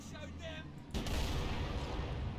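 Sustained automatic gunfire in the Halo video game campaign, a dense, loud burst starting about a second in and rolling on steadily over faint earlier game sounds.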